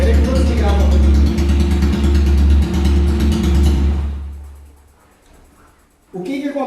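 A motorcycle engine idles with a steady low rumble while its fuel mixture is being checked. It then dies away as it is switched off, and a brief sound returns near the end.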